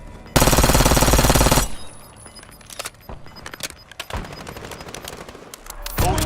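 Automatic rifle fire in a first-person shooter game: a loud, sustained burst for just over a second, followed by a few scattered single shots and some clatter. No one speaks.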